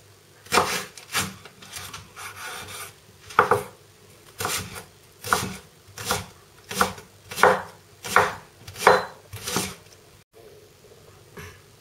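Vegetables are chopped with a knife on a cutting board for red wine braised pork cheeks: about a dozen crisp, evenly spaced chops, loud and close, with no talking.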